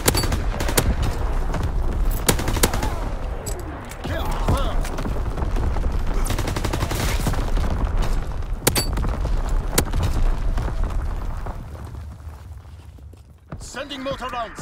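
A Call of Duty WW2 artillery barrage rumbles in a dense run of booms and sharp gunfire cracks that stays loud and close for most of the span, then thins near the end, with voices speaking over it.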